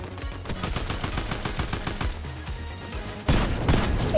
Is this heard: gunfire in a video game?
yes